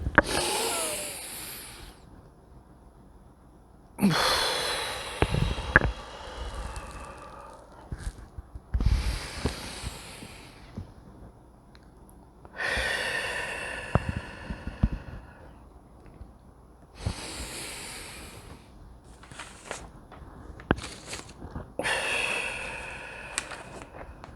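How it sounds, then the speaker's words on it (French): Three slow, deep breaths in and out during a calming breathing exercise, each long airy inhale and exhale close to the mic, separated by quiet pauses. "On va faire 3 respirations."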